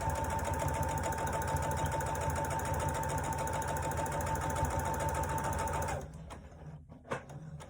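A sewing machine stitching quilt pieces runs steadily with a fast, even mechanical whirr for about six seconds, then stops, leaving faint handling clicks.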